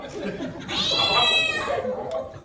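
A man imitates a cat's drawn-out meow during a Hindi stage play in an auditorium, a loud rising-and-falling wail lasting about a second and a half, close and alone.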